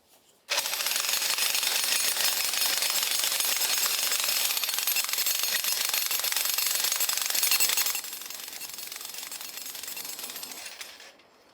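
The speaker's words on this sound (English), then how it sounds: "we have to jackhammer out all of this stone so that you can have a straight wall" A jackhammer breaks out stone with a loud, close, continuous rapid hammering that starts abruptly, runs for about ten seconds, drops slightly in level near the end, then stops.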